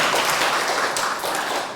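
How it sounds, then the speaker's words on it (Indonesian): Applause from an audience at a talk, a brisk, fairly close wash of many hands clapping for under two seconds, with no voices over it. "Tepuk tangan untuk Edward"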